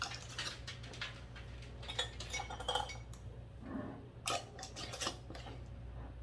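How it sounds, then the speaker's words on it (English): Metal rings being screwed onto glass canning jars for water bath sauerkraut, producing quiet close clinks and scraping turns in short clusters over a low steady hum. "You just want to go just a little bit farther than that when you tighten them."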